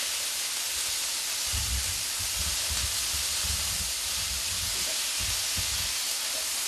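Garlic sautéing in a hot pan while being stirred, a soft steady hiss throughout with low intermittent scraping and thumps from the stirring, fairly quiet and close.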